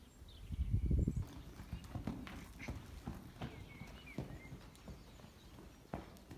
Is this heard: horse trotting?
yes